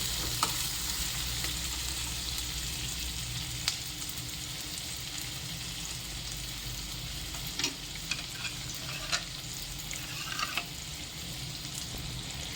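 Cashews and other ingredients sizzle steadily in a pan over a low flame for paneer butter masala, with occasional scrapes and clicks of stirring; it holds at an even, close level throughout with no voices.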